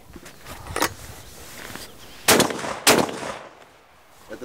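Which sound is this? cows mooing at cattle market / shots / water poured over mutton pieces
shots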